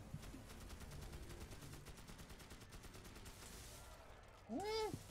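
Gunfire in the video game Magicka, with rapid automatic bursts rattling quietly under a muffled voice before a sudden louder electronic sweep at the end.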